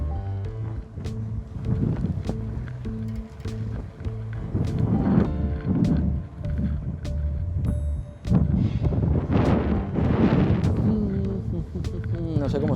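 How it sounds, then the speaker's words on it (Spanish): Strong wind buffets the microphone in gusty, rumbling bursts on a street in Tokyo's Shin Okubo Korean district, while a person talks over the roar. "Dios, qué viento que hace."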